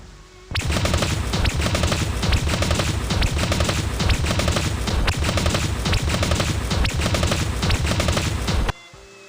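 Sustained automatic machine gun fire in the Dragon Raja video game, a loud, dense stream of rapid shots with booming impacts lasting several seconds before cutting off abruptly.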